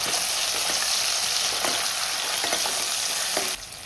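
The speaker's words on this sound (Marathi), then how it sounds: "हे टमाटर, कढीपत्ता आणि चांगलं तेल सुटेपर्यंत तेलात परतून घ्यायचं." Tomatoes and curry leaves fry in oil, giving a loud, continuous close sizzle broken by a few soft stirring clicks, without speech, until the sound drops off abruptly at the end.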